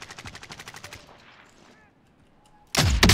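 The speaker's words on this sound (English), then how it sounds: "I shot him through the wall" Rapid automatic gunfire in Warzone, a fast burst of sharp shots that fades into a quiet lull before a loud, dense volley erupts at the end.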